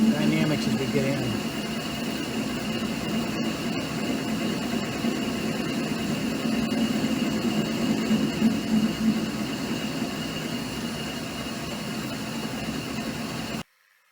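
A reverse parting tool cuts into work-hardening metal on a Clausing/Harrison M250 lathe, giving a steady, dense whirring roar with a humming undertone that continues until it cuts off abruptly just before the end.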